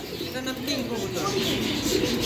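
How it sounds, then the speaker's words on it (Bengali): Soft, throaty king pigeon cooing repeats over a steady murmur in a bird shop, with voices faintly in the background. "এটা হচ্ছে কিং কবুতর"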